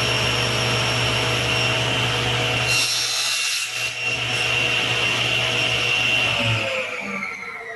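A saw trimming one end of a wood piece at a 45-degree miter angle in a workshop, a steady, loud, continuous grinding whir with a brief brighter rasp partway through, close and uninterrupted, no talking.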